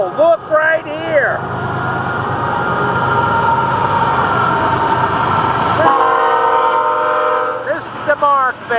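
FEC202, a freight train, passes close by at night with a loud, sustained horn blast over the rumble and clatter of the cars, while people talk briefly before and after the horn.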